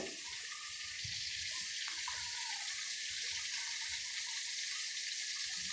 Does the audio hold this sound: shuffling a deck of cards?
no